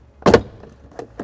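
A plastic storage tray pulled up and out of the interior of a 2016 Lexus RX350, with one sharp plastic pop or clunk followed by a few lighter knocks and rattles.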